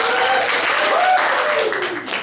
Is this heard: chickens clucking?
no